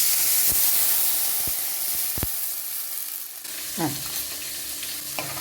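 Onions sizzle loudly in a pan, then tamarind water is poured in with a splash, and the frying hiss softens and continues.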